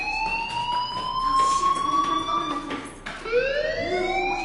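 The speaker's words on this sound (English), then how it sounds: "do you hear that fire alarm? That means you should be outside." A fire alarm rings in the video game Life is Strange, a loud, steady electronic wail that sweeps up and holds, restarting partway through, with no talk over it.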